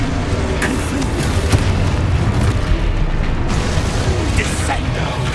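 Repeated spell blasts from Confringo in Hogwarts Legacy, a dense run of booming explosions and bursts over rumbling game effects, loud and continuous throughout with voices mixed in.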